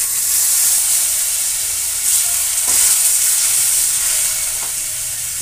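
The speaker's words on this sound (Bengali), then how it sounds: "এবার মশলার বাটি দেওয়া জলটা এবার দিয়ে দেব।" Spiced water from a bowl poured into a hot pan of baingan bharta sets off a loud, steady sizzle with hissing steam that holds throughout, with a brief stir near the middle.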